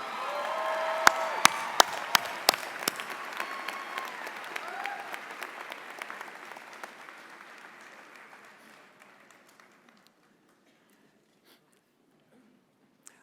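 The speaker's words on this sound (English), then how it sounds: "Let's give her one more round of applause." Warm applause from a large audience at a university commencement ceremony, steady clapping with a few scattered cheers that gradually thins and fades to near silence.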